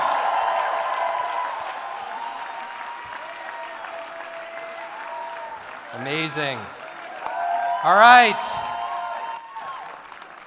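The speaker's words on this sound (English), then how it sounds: "Let's give a hand, a round of applause." A roomful of people at a motivational seminar applauds, a moderate steady clapping wash running throughout, while someone speaks briefly over it twice.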